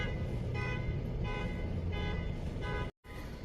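A vehicle beeps repeatedly outdoors on a walk near rivers, a steady run of evenly spaced electronic tones at moderate distance that cuts off briefly near the end.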